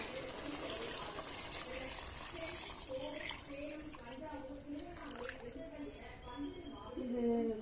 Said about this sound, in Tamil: அரிசிக்கு தேவையான தண்ணி ஊத்திடலாம்